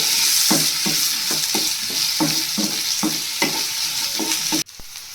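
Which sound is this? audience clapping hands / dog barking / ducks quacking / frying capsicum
frying capsicum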